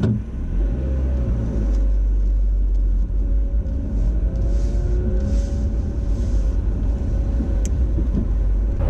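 A car passes on the road during a UK driving test, heard from inside the learner's own car as a steady engine rumble and road noise with a gentle swell as the vehicle goes by.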